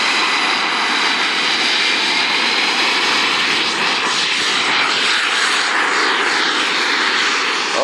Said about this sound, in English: Oh, beautiful takeoff.